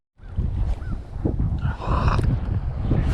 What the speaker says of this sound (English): As soon as I went to cast, the wind just killed me.